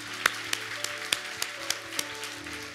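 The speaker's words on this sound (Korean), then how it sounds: "우리 서로에게 많이 수고하셨다고 한번 격려의 박수 드릴까요?" A handful of scattered, fairly faint claps from a church congregation, offered in encouragement at the close of a morning prayer service, ringing out at uneven intervals over a quiet room hum.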